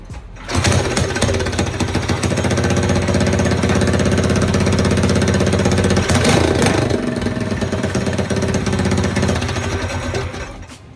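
A Predator 212cc small engine fitted with a Stage 1 kit runs close by, a loud, steady rapid chugging with a brief rev surge midway before settling and fading slightly at the end.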